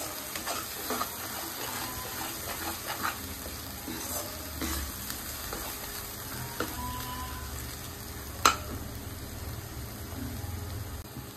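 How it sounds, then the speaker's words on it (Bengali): Spice paste fries in oil in a kadai over a very low gas flame while being stirred, for steamed hilsa. A soft, steady sizzle runs throughout, with light scraping strokes and one sharper clink. "মশলাটা তেলের সাথে ভালোভাবে মিশিয়ে নিচ্ছি।"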